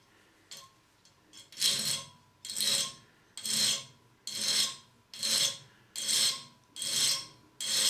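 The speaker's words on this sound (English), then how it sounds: "I'm simply going to give it a couple of files in a forward direction to resharpen the bit." A hand file rasps across a drill bit to resharpen its cutting edge, giving about nine firm forward strokes in an even rhythm, close and crisp with short gaps between.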